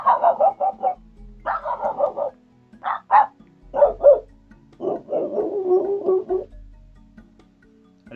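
A voice imitates three different dogs barking in turn, bursts of bow-wow barks and yips in quick rhythmic clusters separated by short pauses, close and fairly loud, with no other talk.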